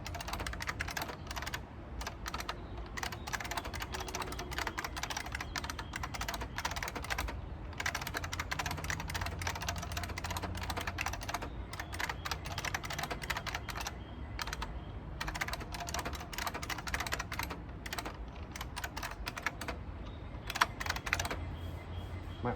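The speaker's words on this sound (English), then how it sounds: "we're going to see how I do with the buckling spring mechanical keyboard" Rapid, continuous typing on a buckling spring mechanical keyboard during a typing speed test, with dense, clacky keystrokes close up and steady throughout without pause.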